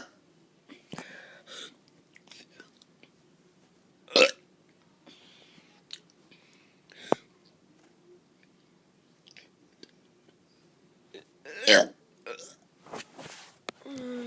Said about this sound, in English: here we go on our burps